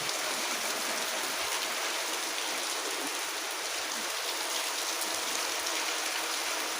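Heavy rain pours steadily, a dense even hiss of countless drops hitting surfaces with no pauses, close and continuous throughout.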